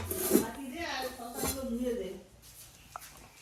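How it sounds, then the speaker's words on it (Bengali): Bowls and dishes knock and clink together while being passed hand to hand in a home kitchen. The handling is intermittent and fairly close, running under a voice, with a small sharp clink near the end. "বাটি, বড় বাটি দিচ্ছি।"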